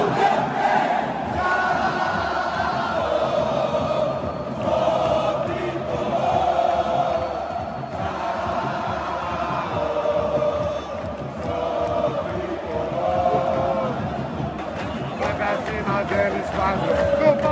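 Football supporters of Bahia chanting together in the Fonte Nova stadium, a dense, continuous crowd roar with rhythmic singing held throughout, loud and close, with voices mixed in.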